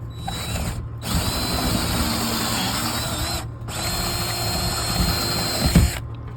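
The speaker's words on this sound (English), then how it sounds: "the first thing I'm going to do is drill it all the way straight through the door frame" A loud power drill whirs steadily through a wooden security door frame in two long runs, stopping briefly between them, with a final clunk.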